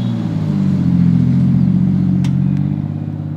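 Drift taxi car at Ebisu Circuit, a loud low engine drone heard from inside the car, holding steady with slight rises and a couple of short sharp clicks.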